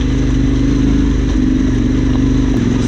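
A trail motorcycle labouring up a wet stream bed on a green lane, its engine thrumming steadily at low revs, close and loud, with a faint splash or knock near the end.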